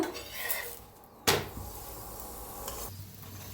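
Banana flatbread on a pan with oil and ghee added, heard as soft background sizzle with a sharp clatter of cookware and a few lighter kitchen knocks nearby.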